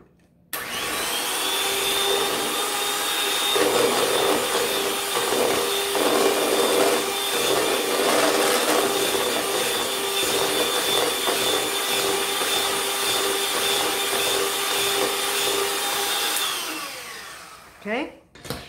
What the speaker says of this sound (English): the next thing we want to do is add 3/4 of a cup of sugar. I'm going to mix that in.